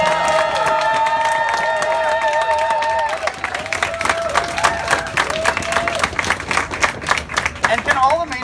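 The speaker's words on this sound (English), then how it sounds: "can we get a big round of applause for everybody who drove over an hour from Maine?" Crowd at a New England health care advocacy rally claps and cheers, starting with a steady wash of applause and then breaking into scattered, uneven clapping with shouts as it thins out. A faint voice is heard through it.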